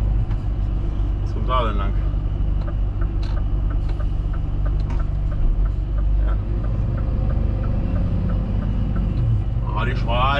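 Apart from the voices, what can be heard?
vehicle driving, engine rumble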